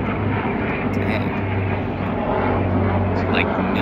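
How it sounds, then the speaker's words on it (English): Steady roar of military helicopters passing overhead, a continuous low engine and rotor rumble that fills the whole stretch at fairly loud level. "Like military helicopters or something."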